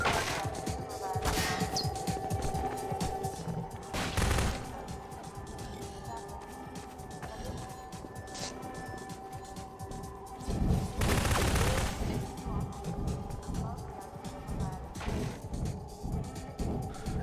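SMG gunfire in Half-Life 2 co-op Synergy, repeated bursts and scattered shots with a couple of louder crashing volleys, moderately loud amid game noise, with occasional speech mixed in.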